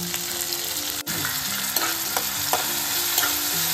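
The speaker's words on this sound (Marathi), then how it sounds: "आता ना कांदा सुद्धा छान असा परतून घ्यायचा आहे आपल्याला" Finely chopped large onion frying in oil in a pan, a continuous close sizzle with scraping stir sounds throughout.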